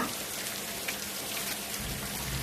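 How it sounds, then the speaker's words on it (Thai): Steady rain falling, a dense even patter of drops on surfaces that holds at the same level throughout, with no voices. "ฝนตกแบบนี้นะคะ"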